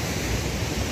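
Rushing river water at a rapid called Bow Sluice in Georgia, running high, gives a steady broadband roar throughout with no voices.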